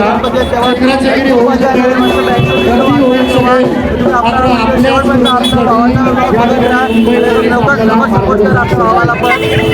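Dense babble from a huge, growing crowd gathered for the Chinchpokli Chintamani arrival procession, many overlapping voices at steady loudness, with someone talking close by over the din.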